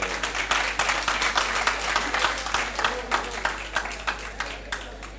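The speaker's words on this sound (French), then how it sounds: "Applaudissez s'il vous plaît." Audience clapping steadily at a French high-school trophy ceremony, a dense continuous round of applause throughout with some voices mixed in.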